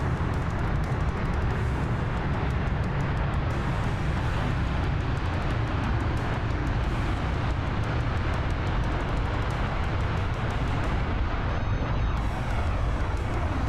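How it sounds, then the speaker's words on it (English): Display team aircraft touch down together in a formation landing, a loud, continuous jet roar with broadband rumble that stays steady and close throughout, no voices over it. "Very, very well executed formation landing there."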